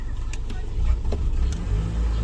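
A car engine is revved with the throttle while it suffers a sluggish, unresponsive throttle and suspected bad variable valve timing. It gives a low, steady idle-like drone with slight swells, close by, and a voice talks over it.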